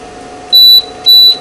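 A coffee machine gives two loud, clean electronic beeps, each about a quarter second long, close by over a faint steady hum.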